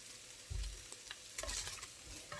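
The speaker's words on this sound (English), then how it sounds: "we're just going to continue to put this beef over in this other pot" Chunks of beef stew meat are moved into another pot, giving soft scraping and stirring with a low sizzle and a couple of heavier thumps, close and fairly faint.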